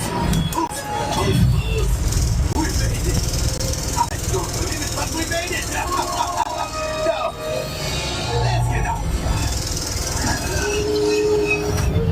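A train rumbles along with metallic wheel squeals and clatter, loud and close, while voices talk over the noise, on the Millennium Falcon: Smugglers Run theme park ride.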